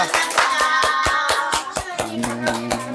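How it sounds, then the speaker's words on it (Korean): A church congregation at a Thanksgiving Sunday service claps in praise with sharp, rhythmic, evenly spaced claps, loud and close, while voices and music run underneath. "하나님 감사합니다 외치면서 박수로 영광 올려드리겠습니다"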